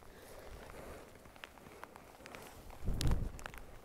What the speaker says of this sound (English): The rain is horrendous, it's just relentless.